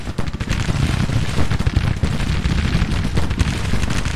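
Troops fire a volley in Grand Tactician: The Civil War, a dense rolling crackle of many musket shots with booming artillery underneath, loud and continuous throughout.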